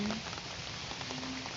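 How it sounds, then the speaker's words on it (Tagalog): Light rain drizzles outdoors among trees, a steady, even hiss of drops falling on surfaces, soft and continuous with no distinct impacts. "pinagmamasdan ko lang yung ulan habang pumapatak"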